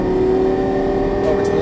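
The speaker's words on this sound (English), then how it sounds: "And give it full throttle." An exotic race car engine at full throttle on the Las Vegas Motor Speedway, a loud, steady, high droning roar heard from inside the car at constant speed.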